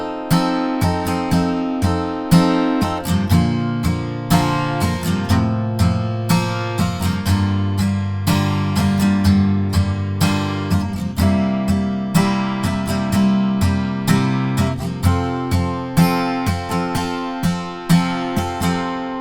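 An acoustic guitar strums the chorus chord progression, open chords with no capo or barre, ending on D, in steady rhythmic strokes that ring full and close throughout, with no talking.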